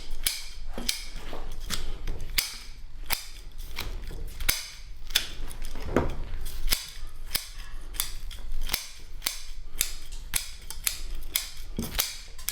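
Scissors snip through the roots of a field-grown Japanese maple bonsai, a rapid series of sharp, close crisp clicks and cuts with rustling between them and no talking.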